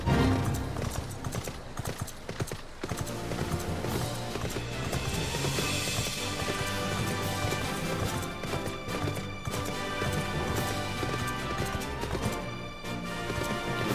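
Rapid galloping hoofbeats from a horse mount in the video game Final Fantasy XIV: Stormblood, a steady clip-clop rhythm running through a busy game soundscape, loud and continuous.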